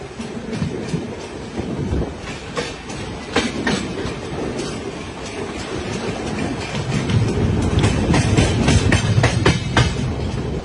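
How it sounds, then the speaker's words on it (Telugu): Bokaro Express passenger train cruising at speed past Eluru toward Vijayawada: a steady, loud rolling rumble with rhythmic clickety-clack of wheels over rail joints, swelling louder in the final seconds. "విజయవాడ వెళ్లే రూట్ లో మన ట్రైన్ క్రూజింగ్ స్పీడ్ ఇది."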